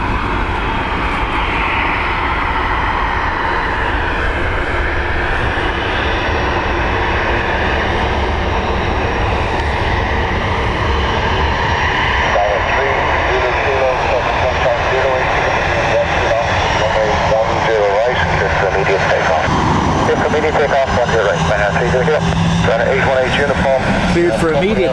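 Saab turboprop aircraft at Dublin Airport, a loud continuous engine roar that shifts in pitch as it moves, with people talking over it throughout.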